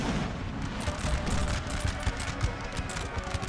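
Infantry units in Napoleon Total War fire a musket volley as a rapid, crackling fusillade of many overlapping shots, heard at a distance over a continuous battlefield rumble.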